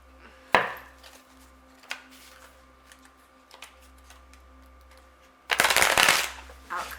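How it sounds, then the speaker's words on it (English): An oracle card deck being handled, with a few faint isolated taps and flicks before a loud, close riffle shuffle of about a second near the end, no talking over it. "I'm going to draw an outcome card from a different deck"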